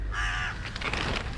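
A crow gives one harsh caw up close, followed by softer rustling and faint outdoor background noise.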